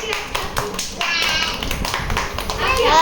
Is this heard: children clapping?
yes